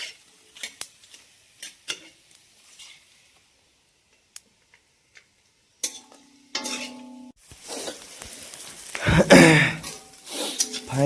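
Onion and chili frying in oil in a village kitchen, a soft sizzle broken by scattered clinks and stirring scrapes, growing louder and busier toward the end with a ladle working through the pan.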